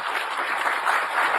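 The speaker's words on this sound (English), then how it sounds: "he comes out to really loud applause" Loud applause from a crowd greeting Joe Biden as he comes out to speak, a dense continuous clatter of many hands at steady volume.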